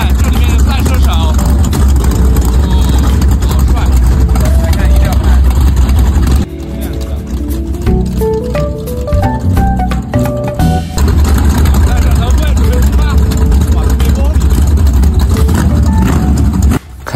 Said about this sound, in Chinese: 你看这个车的噪音超级大